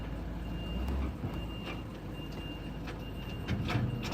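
A semi truck with a trailer reverses amid steady engine rumble and outdoor noise, with a faint, steady high backup beep running throughout and occasional clanks.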